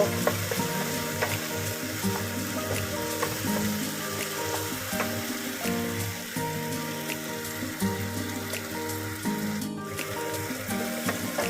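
Shallots fry in a pan with a steady close crackling sizzle and the occasional light stir, and no voices over it.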